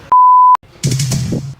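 A phone gives one loud, clean electronic beep as it is being silenced, followed by a brief muffled rustle or thump close to the mic.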